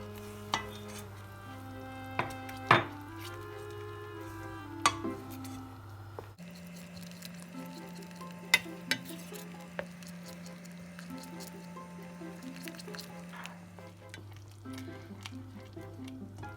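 Grated carrot, sugar and walnuts are stirred together in a pan for carrot balls, giving a soft continuous sizzle and stirring scrape under steady hum, with scattered sharp clicks and knocks from the utensil, no voices.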